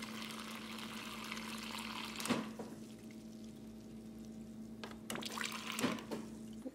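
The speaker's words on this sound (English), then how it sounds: "Let me just add a little water." Water trickles briefly into a bowl of oatmeal, a faint pour alone over a steady low kitchen hum.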